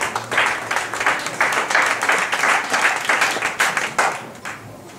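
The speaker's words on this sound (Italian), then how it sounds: "Applauso suppletivo a Silvia" Audience applause at a poetry and school cultural event in Viterbo, a dense crowd of clapping hands that swells and holds steady, loud and close, then begins to thin toward the end.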